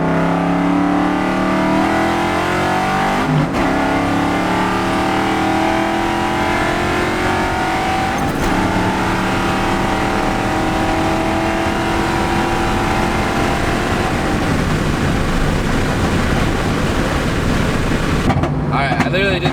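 Car with a stage 2 clutch accelerating hard through a roll pull from about 50 mph, engine pitch climbing steadily with loud, sustained roar for most of the run, then easing near the end; a voice is briefly heard.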